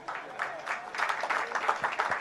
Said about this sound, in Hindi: तालियां तो बजा दी